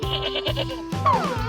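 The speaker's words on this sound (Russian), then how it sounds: "Фиолетовая овца." A sheep bleats several times in a row as wavering, nasal cries. The last cry slides downward, and the calls are close and fairly loud with no talking.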